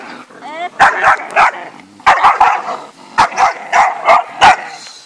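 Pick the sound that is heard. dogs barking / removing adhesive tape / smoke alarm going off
dogs barking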